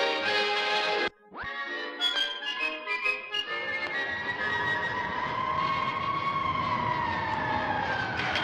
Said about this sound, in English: the sounds of fire sirens in the background